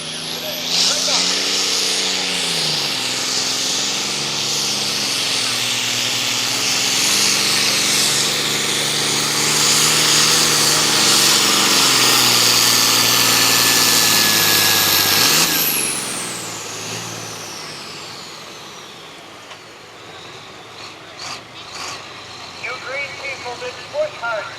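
A loud, straining tractor engine at a truck and tractor pull roars steadily for about fifteen seconds, pitch shifting as it labors, then cuts away to quieter background noise.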